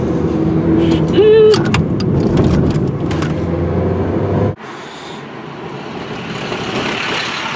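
A Ferrari sports car drives over a rough road, its engine a steady low rumble under knocking and rattling from the bumpy surface, with brief voices, before the sound drops away abruptly to quieter road noise.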